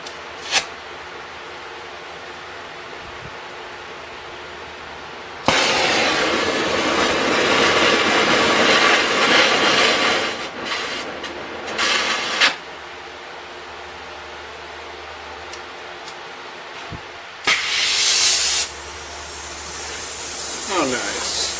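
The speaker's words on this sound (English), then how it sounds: "I got the acetylene heat wrench out, and I'm going to spark this baby" An acetylene torch sparks and catches with a sudden loud roaring hiss that burns steadily for several seconds, cuts off, then flares again in shorter bursts, with a voice heard during the burn.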